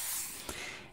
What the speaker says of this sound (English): I'm going to start with my fine mist spray bottle.